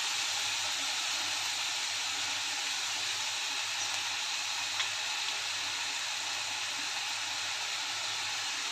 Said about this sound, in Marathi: गवारी पण 1-2 मिनिटं यामध्ये परतून घेऊया आपण